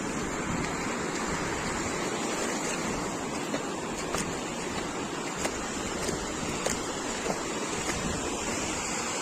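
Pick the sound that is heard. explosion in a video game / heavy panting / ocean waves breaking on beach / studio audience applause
ocean waves breaking on beach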